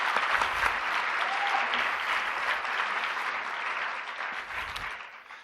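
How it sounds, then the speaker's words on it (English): Audience applause for college singers at an arts address: a sustained, loud round of crowd clapping, even and dense throughout before tapering slightly at the end. "Let's give them one more round of applause."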